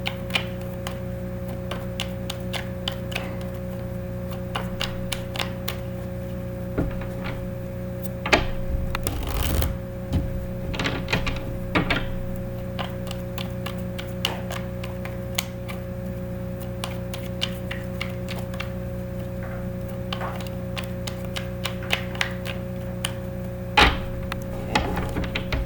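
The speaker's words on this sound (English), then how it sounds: "Let me just shuffle here." Tarot cards being shuffled by hand, with repeated riffles and soft slaps of the deck in irregular bursts over a low steady hum, close and fairly quiet.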